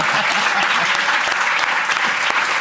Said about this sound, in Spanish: ¡Un aplauso para Cataluña!